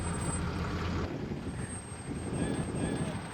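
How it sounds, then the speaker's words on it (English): A fire department reserve brush truck crawls over bumpy off-road ground in four-low first gear, its engine giving a steady low rumble at close range with faint knocks and rattles. "So Jake's navigating the brush truck to every bump he can to create that space."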